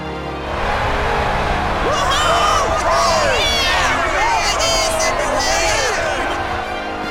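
Crowd cheering and whooping from a fan club in Dragon Quest XI, a steady, loud wash of many voices with rising whistles and calls lasting throughout.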